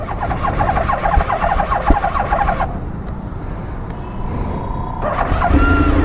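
Engine of a 1000cc motorcycle turning over and settling into a steady loud idle, a rough low rumble that dips briefly before rising again.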